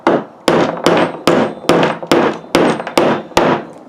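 A hammer drives a small nail into wood with nine sharp, evenly spaced strikes, loud and close, each blow ringing briefly before the next.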